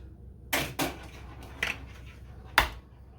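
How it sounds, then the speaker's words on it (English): Eggs being cracked for Hawaiian sweet roll French toast, four sharp, close taps against a hard edge spaced irregularly over a few seconds, with quiet between them. "We're going to crack a few eggs."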